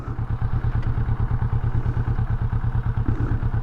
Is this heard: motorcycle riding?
yes